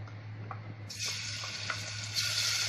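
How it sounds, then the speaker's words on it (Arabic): Minced garlic hits hot oil for a koshari sauce and bursts into a sudden sizzle, which keeps frying steadily under occasional stirring and grows a little louder toward the end. "لما يسخن الزيت هروح ضايفه عندي معلقه ثوم مفروم"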